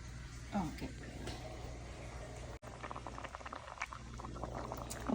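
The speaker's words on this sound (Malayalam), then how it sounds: "അപ്പോൾ നമ്മുടെ കറി നന്നായിട്ട് തിളച്ചിട്ടുണ്ട്." Angamaly-style mango curry with chopped raw mango bubbling in a pot on the stove: a steady, close, busy boil with a continuous wash of popping bubbles, with a faint voice in the background.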